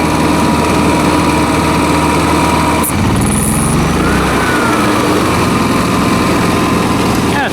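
Honda 7000 watt generator powering an old 220V air compressor, a loud steady engine and motor drone that shifts in pitch partway through as the load changes.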